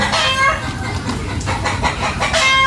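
Native chickens clucking and calling nearby, with a rooster's voice among several short, overlapping squawks against a busy outdoor background.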